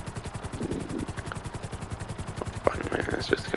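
A helicopter in Grand Theft Auto Online thuds with a steady, fast rotor chop throughout. Faint game sounds and short bursts are layered over it.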